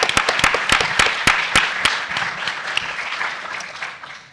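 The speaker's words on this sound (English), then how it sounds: "Round of applause for the data that they're providing for our movement" Applause breaks out for data presenters at a political movement panel event, sharp distinct claps at first thinning and blending into a steady wash of clapping that slowly fades.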